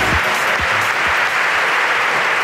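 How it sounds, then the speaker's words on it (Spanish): Loud, dense applause from a live podcast audience in Spain, a steady wash of many hands clapping close up without pause, with a few heavier thumps near the start. "¡Aplausos para la ruina de Ayala!"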